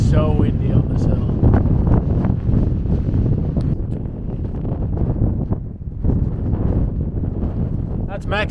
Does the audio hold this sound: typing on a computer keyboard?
no